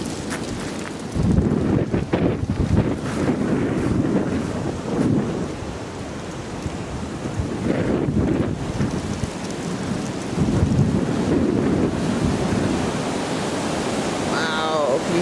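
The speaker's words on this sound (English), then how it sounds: "That's pretty windy." Strong storm winds gust outdoors during a power cut, roaring and buffeting the microphone with a broad, rough rush that rises and falls over about fifteen seconds, rain mixed in and the odd faint sound in the background.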